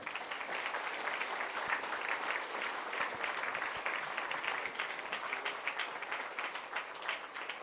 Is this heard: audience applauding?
yes